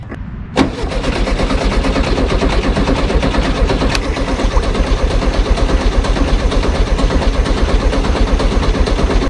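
An air-cooled engine in an abandoned 1974 VW Super Beetle cranks and catches, then runs loud and close with a rough, steadily pulsing idle, no voices.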